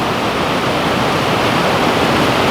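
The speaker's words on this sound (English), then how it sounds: "look at that waterfall." Steady, loud roar of falling water from a waterfall on the Little River Trail, Elkmont, Great Smoky Mountains National Park, broad and continuous and close by, with no breaks or voices.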